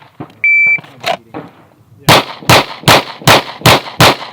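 Gunshots fired during a lateral Bill Drill shooting drill: six sharp, loud, evenly spaced reports in rapid succession, preceded by a beep of a shot timer and brief talk.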